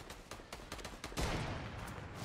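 A quick burst of Fortnite gunfire crackles, several sharp shots in fast succession followed by a noisy rumble, fairly quiet overall.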